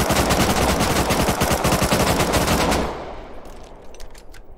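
Shotgun trap firing inside a base in the survival game Rust, a rapid burst of loud, close gunshots for nearly three seconds that cuts off abruptly, leaving fainter scattered shots and ambient noise.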